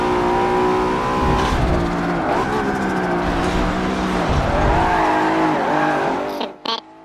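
Race car engine in the Forza Motorsport 7 racing game: a loud, continuous engine roar with the pitch rising and falling through gear changes and corners, ending in a brief tire squeal as the sound cuts off.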